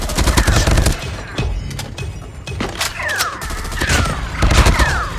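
Rapid, loud gunfire from Call of Duty Mobile rattles in continuous bursts, dense automatic shots stacked with sharp cracks and occasional whizzing tones, close and relentless with brief lulls between volleys.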